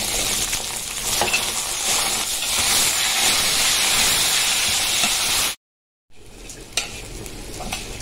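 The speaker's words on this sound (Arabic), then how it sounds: "الشعرية احمرت معايا بالشكل ده كده، هنزل بقى بالرز بتاعي." Rice goes into browned vermicelli frying in a pot, giving a loud, steady sizzle and hiss with stirring scrapes, cut by a brief silence before the frying resumes.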